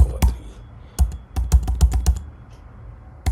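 Computer keyboard keys clack in an uneven burst of close, crisp taps as code is typed, with brief pauses between clusters of keystrokes and no talking.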